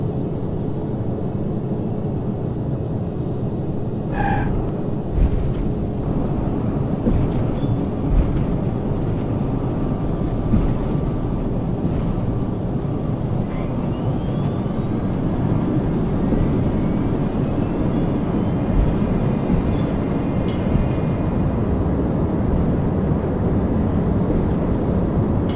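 A Boeing 757 in the FSX flight simulator rolls on the runway after landing, its jet engines giving a steady loud low rumble and whine for the whole stretch, with a few faint clicks and tones.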